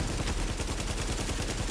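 Rapid gunfire rattles in Tom Clancy's The Division, a dense, continuous stream of sharp shots fired in quick bursts at close range with no pause.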